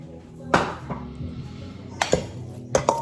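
Seasoning mix for marinating lamb is tipped into a bowl, with a few sharp clinks and clatters of bowl and utensils scattered over three seconds, close and fairly loud.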